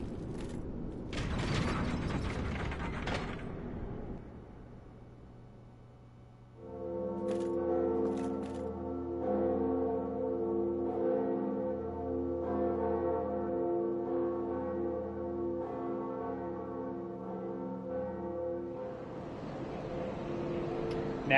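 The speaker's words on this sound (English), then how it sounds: "We need to ring the bell." Clockwork gears and creaking machinery of a bell mechanism in Dark Souls, with a sustained low tonal hum beneath steady mechanical clanking that runs for around twenty seconds after a brief rattling start.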